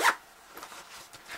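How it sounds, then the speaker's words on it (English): A zipper on a fabric clam-shaped makeup pouch is pulled up a short way, giving one brief quiet rasp followed by faint handling. "pull the zipper up a bit."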